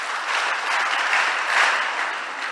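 Church congregation at a Servers' Day celebration Mass in Abeka claps for itself, a steady wash of many hands applauding at once, loud and continuous from start to finish.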